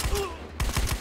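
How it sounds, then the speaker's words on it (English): Rapid bursts of gunfire in the multiplayer shooter Battlefield Hardline, several sharp loud shots in quick succession with a short gap between volleys. "Oh my god, he's already getting shot at."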